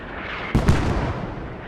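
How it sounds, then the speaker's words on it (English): Mortar rounds in the Squad video game, on the Logar Valley map, land as two close, heavy booms in quick succession, followed by a fading rumble. No one speaks. "Good mortars on the hab."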